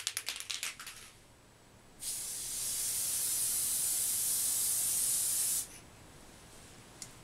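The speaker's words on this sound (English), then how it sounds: "Now I have to spray this behind me in the trash can," A can of spray adhesive hisses continuously for about three and a half seconds into a trash can, preceded by a few quick rattling clicks, fairly close.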